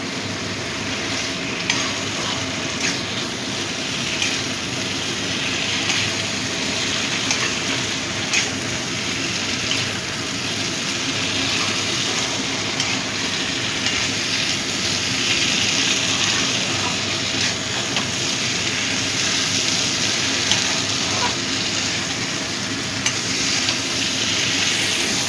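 Okra being fried and stirred in a mustard, poppy seed and cashew masala, a steady continuous sizzle with occasional scraping of the pan, close and fairly loud with no talking.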